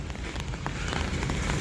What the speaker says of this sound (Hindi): बाहर थोड़ी सी बारिश ज़्यादा हो रही है